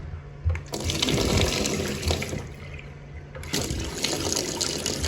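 Water rushes into a domestic plumbing system fitted with a 6 bar pressure relief valve just after the supply is turned on, a loud filling hiss and gush with a brief drop before surging again.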